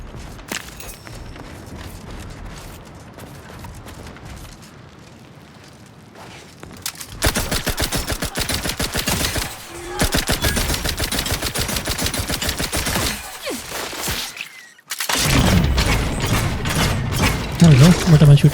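Bursts of automatic weapon fire from a shooter video game, The Outer Worlds 2, come loud and near, quieter stretches giving way to dense rapid volleys with mechanical clicks and footsteps mixed in.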